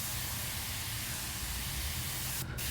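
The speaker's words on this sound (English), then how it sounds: "I spray in this sucker right there" Airbrush spraying paint over a skull stencil, a continuous close-up hiss of airflow held steadily throughout with no talking.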